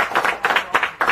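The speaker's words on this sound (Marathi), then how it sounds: "त्यांचं सगळ्यांच्या वतीने टाळ्या वाजवून स्वागत करा" A village audience claps to welcome the local sarpanch in a short burst of applause at close range, with rhythmic bunches of claps.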